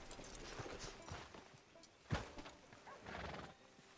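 A horse in the Western video game Red Dead Redemption 2 clip-clops along at a walk with a short whinny midway, quiet and even, with faint ambient background.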